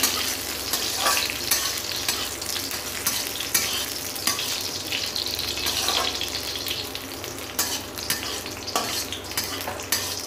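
Cashews and raisins fry in hot oil for a Lakshmi Puja vegetarian dish, giving a steady, close, dense sizzle with crackling bursts and occasional stirring scrapes throughout, with no talking.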